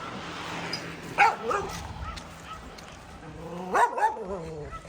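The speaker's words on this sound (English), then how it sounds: "like everybody's barking at us now" Several dogs bark in two short bursts, a couple of barks each, from a moderate distance in a Portuguese village among olive trees, over faint background noise.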